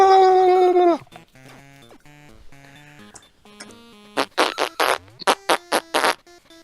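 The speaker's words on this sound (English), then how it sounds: "it just sounds like someone farted and they put it through Audacity" Fart-like sound effect from the Wario Land video game: a long buzzy blat, then a run of short, sharp, rhythmic bursts, loud and up close with no talking.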